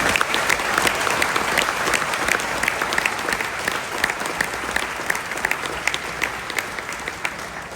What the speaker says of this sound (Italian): io vi invito a fare un applauso per questo